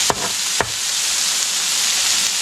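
Onion smash burgers hiss loudly on a hot griddle in a constant, dense sizzle, broken early by two quick scraping flips of the spatula.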